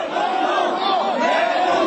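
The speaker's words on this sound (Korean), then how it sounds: "이내 야유가 쏟아집니다" A large crowd at a candlelight rally in Gwanghwamun, Seoul, erupts in loud, sustained booing and jeering, a dense roar of many voices directed at a government minister, continuous throughout.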